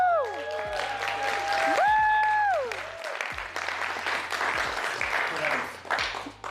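A live crowd at a DreamHack 2024 stage event claps and cheers in a loud, steady burst of applause, while a host speaks over it with music.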